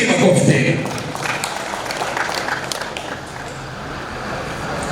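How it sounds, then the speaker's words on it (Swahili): An audience of teachers at an official gathering breaks into a short burst of clapping that settles into steady applause, with voices talking over it. "Tupige makofi tena."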